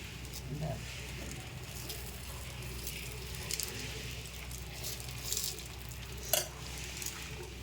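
Egg dosa frying on a hot griddle with onion, curry leaves and coriander, giving a steady soft sizzle under ongoing background talk, with occasional brief clicks and scrapes.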